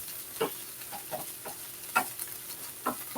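Chopped onion with a little salt, ready for meat to be added for stuffed red peppers, sizzles gently in a pan with soft intermittent stirring scrapes and ticks, steady and close, with no talking.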